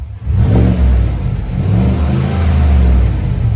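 A Chevy/GMC 6.2L V8 with a MagnaFlow muffler revs steadily, loud and close. Its deep exhaust drone holds throughout, with a slight rise and fall in pitch and no talk over it.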